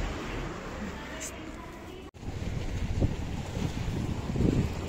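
Gusty hurricane wind roars and buffets the microphone over a steady wash of sea in Spain, a low rumbling swell rising and falling.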